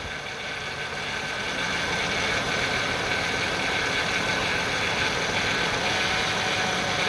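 A 2000 Ford Windstar's 3.8 liter engine idles roughly with one fuel injector unplugged, giving a steady, loud, close-up mechanical drone with a faint ticking texture throughout and no talk.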